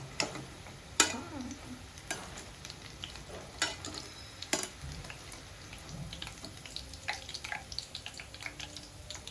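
Onion pakodi fry in hot oil until golden brown, with a soft, faint sizzle and scattered clinks and scrapes of a utensil throughout.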